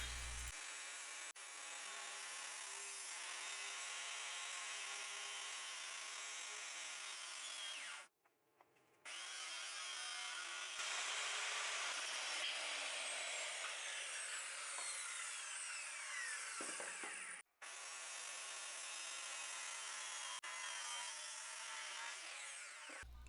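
A power saw cuts a cabinet top of glued Douglas fir boards to size, a loud continuous whining rasp that stops abruptly twice, briefly falling silent before resuming.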